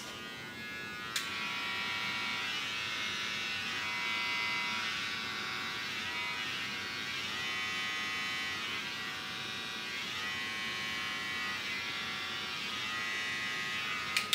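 A Gamma Plus Boosted electric hair clipper with a new blade runs steadily with a constant high buzzing hum, close up and uninterrupted, a faint click near the start.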